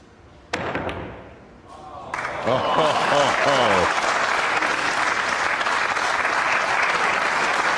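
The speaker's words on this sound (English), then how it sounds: "he should get a standing ovation from the crowd" Loud crowd applause and cheering swell after a billiard shot in a tournament, beginning with a sharp knock and building to a sustained roar that holds to the end.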